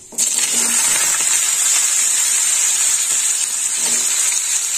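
Green beans and potatoes dropped into hot tempering oil with five-spice seeds, a loud steady sizzle and hiss that starts abruptly and continues evenly, close up, with occasional faint stirring clinks.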